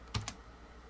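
A few quick computer keyboard keystrokes, two distinct close clicks in a short burst followed by quiet room tone.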